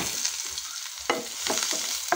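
Garlic and onion fry in a smoking-hot pan, a soft continuous sizzle broken by several sharp stirring scrapes and spatters, close and fairly quiet.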